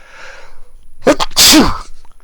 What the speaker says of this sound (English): And I think I'm going to sneeze.